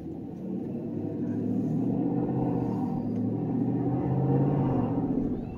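A 2019 GMC Sierra Denali with a Corsa exhaust idles and rumbles in a deep, steady drone that swells slightly, loud and close with no talking.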